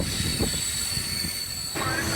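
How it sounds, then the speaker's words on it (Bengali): A train rumbles along the rails into Bally station, India, with a thin metallic squeal and hiss, the wheels clattering as it rolls in. "আমাদের ট্রেন এসে পৌঁছালো বালি স্টেশন"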